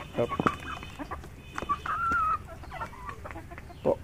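Chickens cluck and a rooster-like call rises on a poultry farm in Assam that also keeps turkeys; several short, near bird calls come irregularly over a quiet outdoor background.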